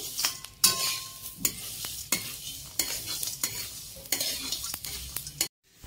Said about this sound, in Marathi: त्यात ही मी 1 वाटी तीळ घेतलेली, ती पण त्यातच ऍड करून भाजून घेते